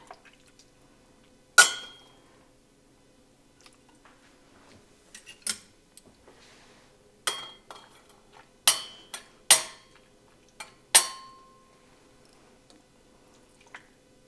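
Seasoned taco meat spooned into glass canning jars, with about eight sharp, separate clinks and wet squishes spread across a quiet background and no talk.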